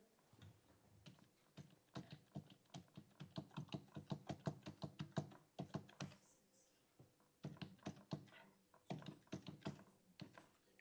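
Steady keyboard typing while entering data into a spreadsheet in MS Excel, with quick clustered keystrokes in uneven bursts and brief pauses, heard close and fairly quiet with no talk.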